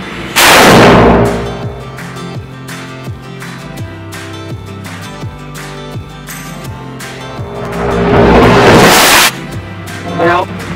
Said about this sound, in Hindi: इसने तो कर दिया धमाका, ये रहा फ्यूज